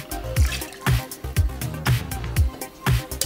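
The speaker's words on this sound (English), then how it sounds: "we're gonna throw in 2 ounces of our sweet and sour drink mix" Sweet and sour drink mix pours into a cocktail in a close, liquid glug that repeats in short regular pulses over about three seconds, with no talking.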